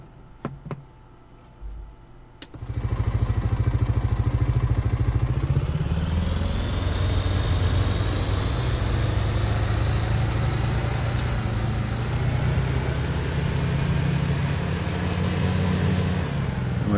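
Mahindra tractor engine driving in Farming Simulator 19: a few faint knocks, then a loud, steady, close engine drone that climbs gradually in pitch and holds, alone without talk.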